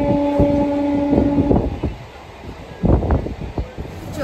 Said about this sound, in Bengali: এই বসে পড়েছি ট্রেনে, আর ট্রেনও ছেড়ে দিয়েছে, বেশ অনেকটাই চলে এসেছে ট্রেন।